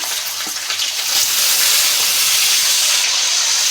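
Chicken fries in a pan with curry leaves, giving a loud, steady, broad hiss and sizzle that swells slightly and holds throughout.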